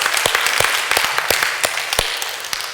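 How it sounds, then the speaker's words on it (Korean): A church congregation at a Sunday worship service claps in a thin, scattered way, with individual hand claps standing out irregularly over a light background of applause. "박수 소리가 굉장히 약하신데 오늘 아침을 안 들고 오셨는지 좀 크게 좀 박수 좀"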